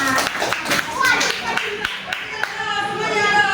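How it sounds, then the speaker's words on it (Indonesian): A group of children clap hands together in a classroom reading lesson, loud close claps in a quick burst with voices talking and calling over them. "Tepuk tangan untuk kita semuanya."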